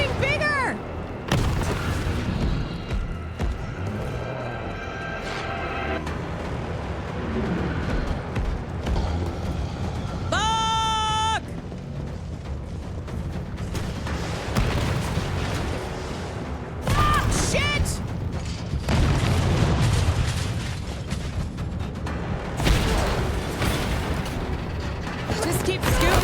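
Heavy booming explosions from rocket launcher fire in a video game, repeated blasts and rumbling mixed with mechanical noise and shouted talk over a dense game soundscape.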